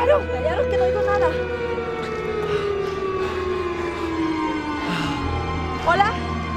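An alarm siren in a sci-fi alien invasion film sounds as a loud, continuous wail whose pitch glides slowly downward and holds steady over layered background tones.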